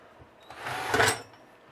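A power drill bores into a projector lamp housing while an LED lamp module is installed, giving one short close whir that rises to a peak and then fades.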